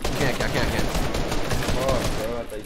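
Rapid bursts of gunfire in the Fortnite video game, dense and loud throughout, mixed with clattering game effects and players talking over it.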